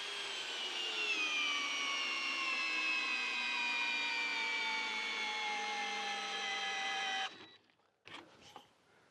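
Bauer 2092CR-B brushless hammer drill running under load, a steady high whining motor tone that slowly drops in pitch over about seven seconds before cutting off, followed by a few brief clunks.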